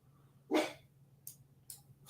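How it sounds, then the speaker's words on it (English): A dog barks once, loud and close, in a quiet workshop, followed by a couple of faint, short breathy sounds. No one speaks. "Pardon from my dog there."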